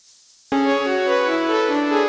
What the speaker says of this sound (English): Loop the sample, and high-pass the noise around 7K using the sampler's built-in filter.